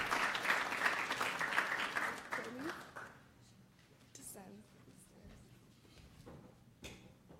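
An audience in a venue for a tax-policy talk applauds, a dense wash of clapping for about three seconds that thins into scattered claps, with a voice heard over the tail.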